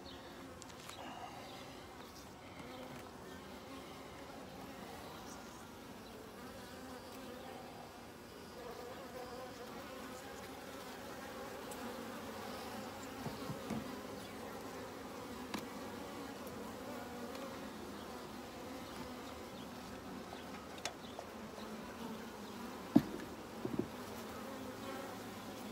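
Honeybees hum in a low, steady drone inside an open top bar hive during a midsummer inspection, with occasional soft knocks and handling sounds over the buzzing.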